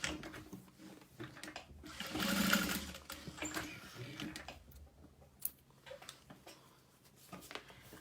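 A sewing machine stitches through a vinyl tote, running quietly in short bursts with faint ticking and brief pauses, close by and fairly soft, with no voices.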